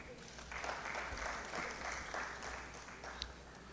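Audience applause at a geopolitics conference in Kampala, a soft, steady wash of clapping from a crowd at a moderate distance, sustained throughout with a slight swell midway and faint background murmur.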